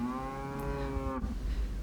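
A cow in a working herd of cows and calves lets out a single long, loud moo close by, ending abruptly, with no talk over it.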